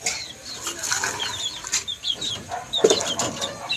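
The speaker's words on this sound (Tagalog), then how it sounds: "It's time to feed my chicken. Hi mga manok." Chickens cluck and chirp close by in a busy flock at feeding time, with soft wing flaps and rustling; a few sharper squawks stand out.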